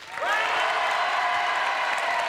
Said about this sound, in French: Applaudissements pour le nez de Dustin.